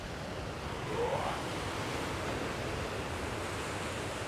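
Steady rushing wash of ocean waves breaking against big granite boulders at Granite Bay, a broad continuous surf roar heard at moderate distance with no voices.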